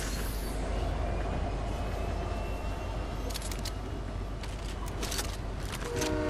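Train ride in the video game Fortnite: a steady, low rumbling rolling noise throughout, with brief bright clicking and clattering bursts toward the end and no talk.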